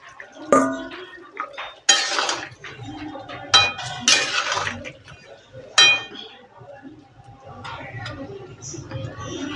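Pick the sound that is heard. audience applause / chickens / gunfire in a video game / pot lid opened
pot lid opened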